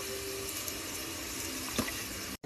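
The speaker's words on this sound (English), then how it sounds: "After mung beans is brown, add water." Water poured into a big pot of browned, toasted dried split mung beans, a steady broadband rush of liquid running evenly for a couple of seconds before cutting off abruptly.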